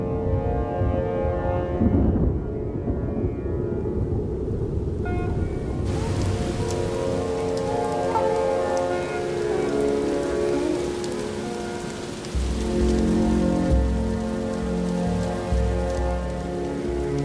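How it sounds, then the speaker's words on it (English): Heavy monsoon rain pours down steadily, a dense roaring hiss of drops drumming on surfaces that continues without pause. "The lashing rain will test the king cobra's nest"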